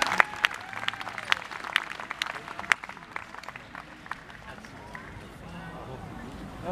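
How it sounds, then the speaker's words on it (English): An audience applauds hula dancers from a hālau at a live performance. The clapping is dense and steady, with some crowd noise, and it tapers slightly toward the end. "how about a round of applause for some of the kaikamahine of Hālau Hiʻiakaināmakalehua"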